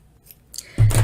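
A floral tape cutter slices through floral tape in a quick, close snip, a short sharp cutting burst near the end after faint handling rustle.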